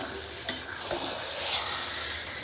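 Curry with sour yogurt is stirred and fried in a pan as a continuous close sizzle. Two quick scraping knocks from the stirring come early, then the hiss swells slightly.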